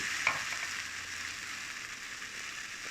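Shrimp sizzle and hiss while being stir-fried in a pan for shrimp with shrimp paste, a steady broad crackle running close and continuous with a brief utensil tap near the start.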